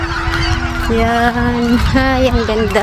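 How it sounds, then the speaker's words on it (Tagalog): Geese honking nearby in several calls outdoors along a creek during a jog, with a person talking over them. "ibon."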